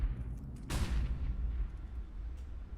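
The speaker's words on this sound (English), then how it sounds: "Follow those HE grenades. There they go, 3 of them." Grenade blast in Counter-Strike during a PGL Major Kraków 2017 match, a single sharp burst over steady low rumble, loud and close, with no voices.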